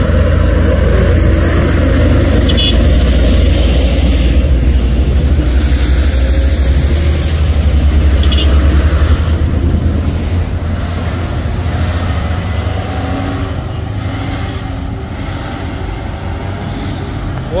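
Heavy trucks moving as a convoy on a hilly road, a loud continuous low engine rumble and tyre roar, with a faint voice in the background.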